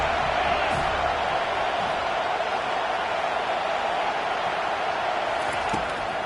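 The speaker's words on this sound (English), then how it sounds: "Decibels rising as the crowd gets behind this defense on third down." Stadium crowd noise swells in a Madden football video game during a third-down defensive stand, a loud, dense, continuous roar of many voices filling the whole stretch with faint whoops.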